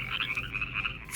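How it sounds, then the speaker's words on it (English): Frogs croak continuously in a dense, loud chorus with overlapping rhythmic calls and no voices. "There were frogs,"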